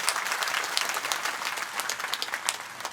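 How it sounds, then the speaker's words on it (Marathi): Lively crowd applause greeting Shahaji Bapu at a memorial gathering, many hands clapping close and steady for several seconds with sharp individual claps standing out. "आपण सर्वांनी शहाजी बापूंचं टाळ्या वाजवून या ठिकाणी स्वागत करावं"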